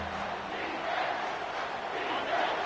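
Crowd noise roars steadily through a college football video game stadium, Tennessee facing LSU, a broad, even wash of cheering that stays constant in level.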